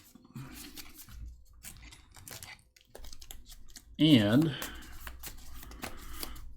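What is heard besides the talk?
shuffling cards for the One Deck Dungeon card game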